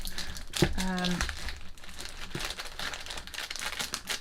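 Thin plastic packaging around BH Cosmetics makeup brushes crinkles in short close bursts, with someone talking intermittently over the rustling.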